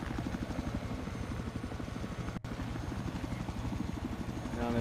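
A helicopter in the video game Battlefield Hardline roars steadily throughout, its rotor chop pulsing in a fast, even rhythm under a loud engine whine, close and continuous apart from one momentary cut.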